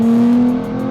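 A Nissan GT-R with a V6 making about 700 horsepower accelerates hard while merging onto a highway, a loud, steady engine drone heard from inside the car that eases slightly near the end.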